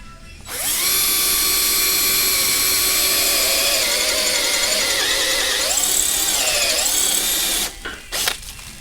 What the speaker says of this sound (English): I'm putting a little tool oil on the bit, keep it cool and cutting.